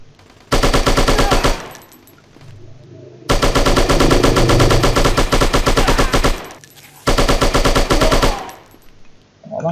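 Rapid automatic gunfire from a video game shooter (Striker), with an enemy firing through walls, comes in three long loud bursts separated by short pauses; no talking.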